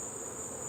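A steady, dense hum of honeybees swarming around an active hive opened for honey harvesting, continuous and close, with no voices.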